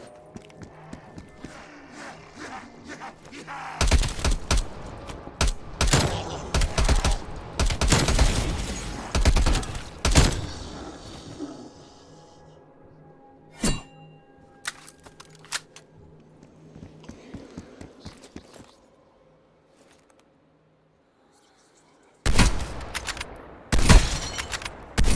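Bursts of SMG fire in Call of Duty Black Ops Cold War, rapid rattling volleys in several clusters separated by quieter gaps with scattered single shots, then a near-silent stretch before a final loud burst.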